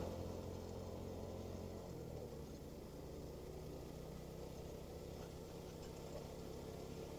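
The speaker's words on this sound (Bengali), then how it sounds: "আচ্ছা, একটা গিয়ার কমাইলাম, কারণ শক্তি পাইতেছিল না।" Motorcycle engine running steadily after a downshift on a rough, potholed hill road in Bandarban, a constant mid-pitched drone with a slight pitch drop early on, close and continuous with no talk.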